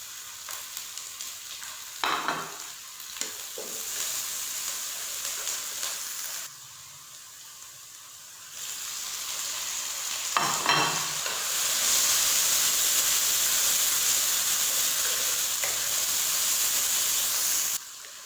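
Biryani masala with finely chopped green chillies frying and being stirred in a pan, a strong steady hiss and sizzle broken by spatula scrapes, dropping briefly quieter midway, then surging louder and sustained near the end, close up with no talk.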